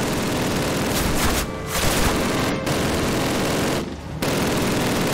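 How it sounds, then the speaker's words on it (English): Loud, dense automatic gunfire from a Call of Duty firefight, a near-continuous fusillade with two brief gaps. "Who is shooting, bro?"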